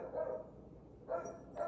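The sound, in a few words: dogs barking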